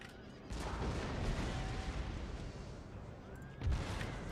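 Artillery and musket gunfire in the Empire Total War strategy game: dense, continuous booming and crackling volleys with sharper blasts near the start and near the end, loud and unbroken, with no voices.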